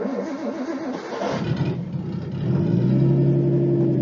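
An RB20DET-swapped Nissan S13 240SX with a screamer pipe pulls away, its engine note rising through the gears and settling into a loud steady drone, heard from inside the car.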